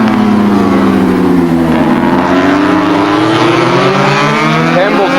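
Racing motorcycles roar at speed in a 1984 Swan Series race, a loud continuous engine drone whose pitch sweeps down and back up as bikes pass close by, with no talk over it.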